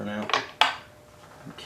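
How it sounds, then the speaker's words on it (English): A screw is tightened on a Maytag 92 engine during restoration, giving a couple of short metallic clinks and scrapes from a tool close up, with nobody talking. "I'm going to tighten this screw that I loosened up"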